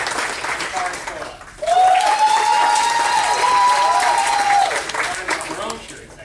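Audience at a comics roundtable on race, gender and sexuality applauding the panelists, a surge of clapping and cheers with a sustained whistle that swells, holds for about three seconds, then fades.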